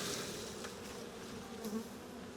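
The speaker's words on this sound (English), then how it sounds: "you can see all these bees pointing their butts up into the air and fanning" Honeybees buzz and fan their wings at a hive box, a dense, steady drone close by with no voices.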